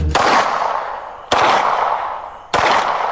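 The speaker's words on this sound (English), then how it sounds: "Handguns are used for protection and to kill any hogs in traps" A handgun fired outdoors on a wild boar hunt: three sharp, loud shots spaced a little over a second apart, each with a decaying echo.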